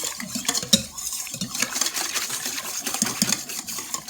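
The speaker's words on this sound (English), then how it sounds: "And I whisk this to mix everything." Whisk clinking against a bowl while mixing a yeast mixture for pizza dough, a close, steady run of rapid scraping and tapping strokes with no talk.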